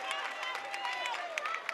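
Home crowd at a Grady high school varsity boys basketball game against Columbia, a steady roar of cheering and shouting with sneaker squeaks and sharp claps, loud and continuous.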